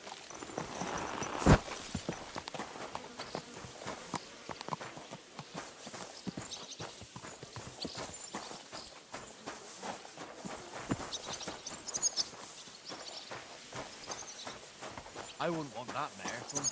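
Horse hooves clip-clopping at a walking pace while riding in the medieval video game Kingdom Come: Deliverance II, a steady rhythmic plodding heard under voices talking.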